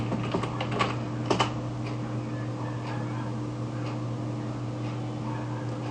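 Computer keyboard typing while entering a password at a desk: a few quick clustered key clicks near the start, then sparse faint taps over a steady low electrical hum.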